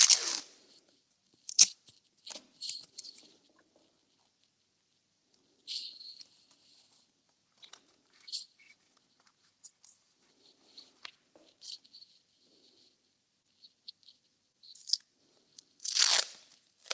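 Tape is pulled and torn to fix sketching paper flat against buckling, giving scattered crisp crunching and ripping bursts separated by quiet pauses, close to the ear.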